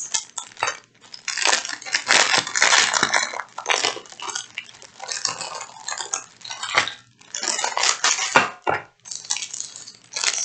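Crinkly plastic bags rustle and crackle in uneven bursts close by, with brief pauses between handfuls.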